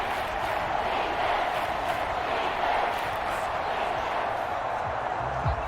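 A loud Seattle Seahawks home stadium crowd in the Madden 25 football video game roars steadily as a dense wash of noise. The 49ers offense is in the red zone on third down.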